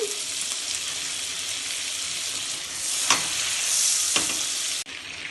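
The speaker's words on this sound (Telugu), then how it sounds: "బటర్ వేసుకుందాము ఒక రెండు కట్టలు మెంత మెంతు కూరకి ఫిఫ్టీ గ్రామ్స్ బటర్ పడుతుంది" Butter melts in a pan for methi malai with a steady close hiss of sizzling, broken by a couple of sharp stirring clicks near the end.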